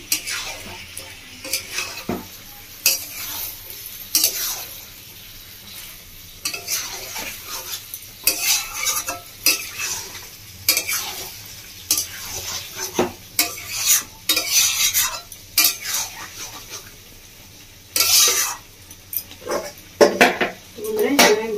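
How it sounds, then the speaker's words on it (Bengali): Home-style chili chicken frying in a pan is stirred again and again, a spatula scraping and clacking against the metal over a steady sizzle, in irregular bursts across the whole stretch. "এবার আমি ভালো করে চিকেনের সাথে মিশিয়ে দেবো"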